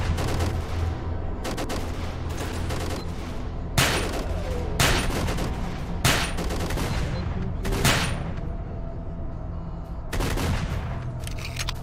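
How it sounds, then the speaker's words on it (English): Shotgun fire from the video game S.T.A.L.K.E.R. Lost Alpha comes as loud, booming blasts at irregular intervals, about a dozen in all, some in quick clusters, over a steady low ambient rumble. "That's shotgun, I'm not worried about that."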